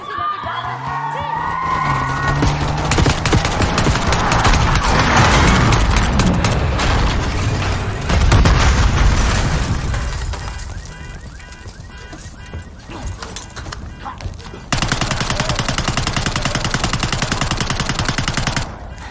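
Call of Duty Black Ops 6 combat: loud, dense bursts of rapid gunfire and heavy booming explosions fill the scene, continuous and close, with rattling automatic fire carrying on to the end.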